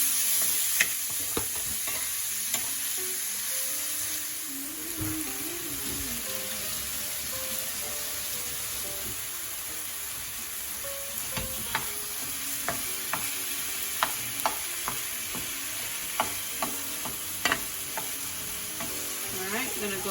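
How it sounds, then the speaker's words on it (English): Ground turkey hisses and sizzles in hot oil in a pan, close and steady, while a utensil stirs with sharp clicks against the pan. No one speaks. "Okay, so our pan's nice and hot. Gonna go ahead and toss our turkey in there."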